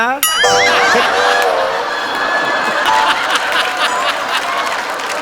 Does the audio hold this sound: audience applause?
yes